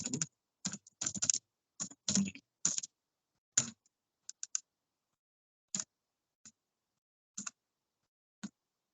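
Computer keyboard keys clatter in short irregular bursts of close, crisp typing while an SQL query is entered, separated by silent pauses, with a few isolated single clicks toward the end.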